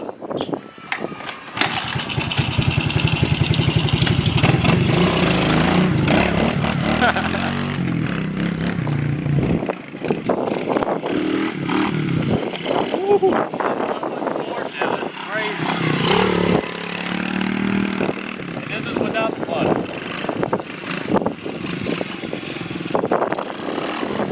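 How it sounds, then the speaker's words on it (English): A motorbike with a centrifugal clutch revs and pulls away with a loud buzzing small-engine roar that rises and falls close by, while people talk over it. "You can shift into the gear without the clutch and it'll take off."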